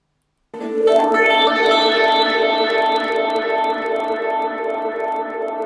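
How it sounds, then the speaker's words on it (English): A sustained tone runs through a dub echo effect with a cat spring, starting abruptly and ringing on with dense, distorted repeats and swelling reverberant harmonics that fade only slightly over several seconds. "This is echo."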